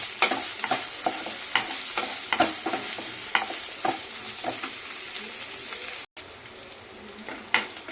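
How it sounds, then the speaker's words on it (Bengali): Chopped onions frying in a pan give a steady, close sizzle, with a utensil stirring and tapping in a regular rhythm throughout and one brief break near the end. "পেঁয়াজ কুচিগুলো দিয়ে একটু ফ্রাই করে দেবো"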